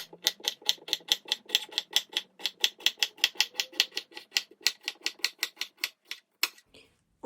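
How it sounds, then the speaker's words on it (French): A knife slices a cucumber into small rounds, making a quick, regular series of crisp chopping taps against the board, close and clear, and stopping near the end. "Je vais le couper du coup en petites rondelles."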